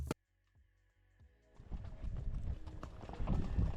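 Horses' hooves clop on a sunset riding tour in Cappadocia, starting after a brief quiet pause and building into a busy, uneven patter of several animals close by.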